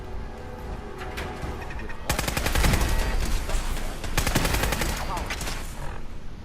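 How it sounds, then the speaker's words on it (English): Rapid bursts of sci-fi laser turret fire in a space video game, loud clustered volleys with a dense stretch in the middle and another barrage later, alongside a constant background hum. "Those laser turrets just do so much damage on you."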